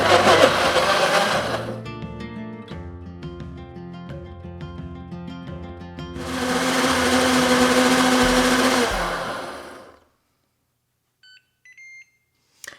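A high-speed blender on its extract setting whirs loudly while blending blue cheese vinaigrette, settles into a steady whine, surges again, then winds down to silence followed by a few faint beeps.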